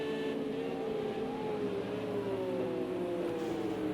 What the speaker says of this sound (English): Flames billowing out of the cars as they're downshifting.